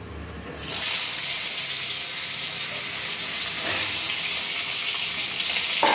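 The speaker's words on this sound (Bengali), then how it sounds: "এখানে আমরা পটলগুলো, যেগুলো আমরা নুন হলুদ মাখিয়ে নিয়েছি, সেগুলো এই কড়াইতে দিয়ে হালকা করে ভেজে নেব" Pointed gourd pieces coated in salt and turmeric fry in hot mustard oil in a wok, giving a loud, steady, hissing sizzle that starts abruptly and continues unbroken with no talking.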